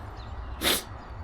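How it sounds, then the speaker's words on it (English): A single short sneeze bursts out sharply, close and fairly loud, over a quiet low background hum. "I feel like I gotta sneeze"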